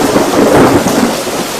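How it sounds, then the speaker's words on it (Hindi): Heavy rain pours steadily while thunder rumbles through it on a stormy night along a lonely road, a dense, loud roar without any voices. "बचा लीजिए इस बारिश से।"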